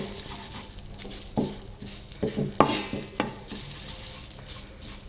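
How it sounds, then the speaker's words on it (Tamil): Grated coconut for mutton masala is stirred in a pan on the stove, with scraping spoon strokes and light knocks over a soft, steady sizzle. "கொஞ்சம் நேரம் அடுப்பில் வச்சு எல்லாம் ஒன்று கிண்டி"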